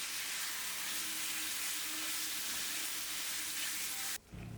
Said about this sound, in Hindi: अब मैं इसमें मैरिनेटेड चिकन ऐड करके थोड़ा सा कुक करूँगी।